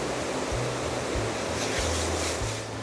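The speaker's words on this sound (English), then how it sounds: "There are ponds and creeks and little waterfalls everywhere along here." Water rushes steadily through the waterfalls and creeks of Mystic Falls Park, a dense, continuous splashing roar with a faint low hum underneath.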